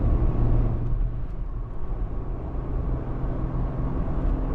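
A Jeep Gladiator drives along after a backyard alignment. Its steady road and engine rumble is heard from inside, with no talking.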